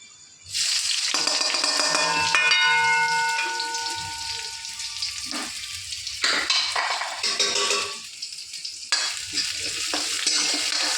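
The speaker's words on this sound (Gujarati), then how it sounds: "કઢાઈ ગરમ થઈ ગઈ છે તો એમાં હું એડ કરીશ તેલ" Oil and curry leaves crackling in a hot kadai, a sudden loud sizzle that sputters and pops steadily, with bursts of stirring and fresh spitting throughout.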